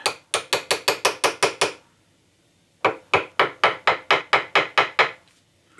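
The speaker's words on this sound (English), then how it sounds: "So I'll try and get the other rivet in." A rivet is set during the repair of a 1961 Grundig powered speaker: two fast runs of sharp, evenly spaced metallic clicks, about eight and eleven strikes each, loud and close with a short pause between them.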